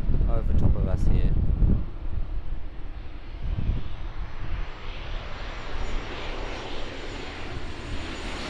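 Virgin Australia airliner arriving low overhead on approach to runway 16R at Sydney International Airport near Nigel Love Bridge, a loud sustained jet roar with wind buffeting the microphone, brief talk at the start.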